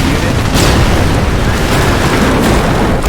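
A loud, sustained roar of bomb blast noise in Company of Heroes fills the scene, dense and rumbling like a big explosion, with no clear voices.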